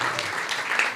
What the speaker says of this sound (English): Let's give a round of applause for the panel here.